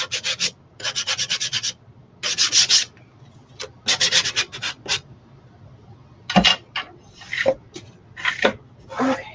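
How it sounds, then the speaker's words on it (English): Hand sanding along the edges of a craft piece, heard as close, scratchy strokes in quick rhythmic bursts with short pauses between, some longer single rubs and light knocks toward the end. "Let me go ahead and sand the edges a little bit."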